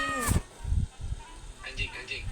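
A cartoonish cat meows in a video game, a short bright mew followed by a second one a moment later, with people talking casually over the game audio.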